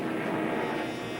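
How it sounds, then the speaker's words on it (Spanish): Roar of Japanese bomber aircraft over Pearl Harbor, a steady broad engine drone that holds loud and unbroken through the short stretch, with no voices. "Oír el rugido de los aviones, uno tras otro sobre nuestras cabezas"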